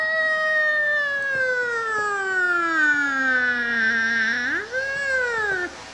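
A young child imitates a fire engine siren with the voice, holding one long, close wail that slowly falls in pitch, then swoops sharply upward before stopping.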